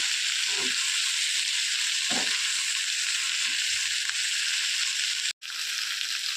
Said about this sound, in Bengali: আদা রসুন পেস্ট দিয়েও ভাজা ভাজা করে নিয়েছি